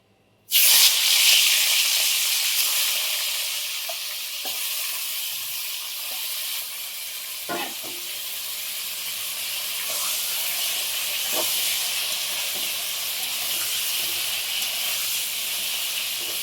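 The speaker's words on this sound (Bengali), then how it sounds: "মাছটা ভালো করে নুন হলুদ দিয়ে মাখিয়ে নিয়েছি এবার ভেজে নেবো কড়াইয়ে" Rui fish coated in salt and turmeric sizzles in hot oil in a wok, a steady loud hiss and spatter that stays continuous from start to finish, with a few faint clinks of a utensil and no voices.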